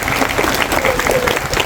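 A seated crowd at a Durga devotional event with aarti and bhajans breaks into loud, dense, continuous applause that holds steady throughout.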